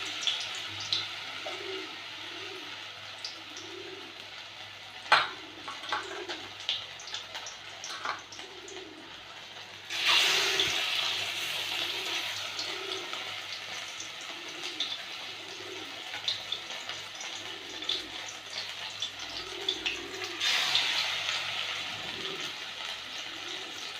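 Lote fish fritters fry in hot oil with a soft, steady sizzle and light crackling that swells twice as more batter goes into the pan. No one speaks.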